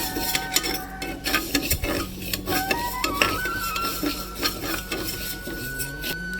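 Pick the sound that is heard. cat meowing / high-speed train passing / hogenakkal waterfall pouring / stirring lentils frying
stirring lentils frying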